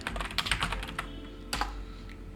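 Close computer keyboard clicks as code is typed, fast irregular bursts of keystrokes with a short pause in the middle, no talking.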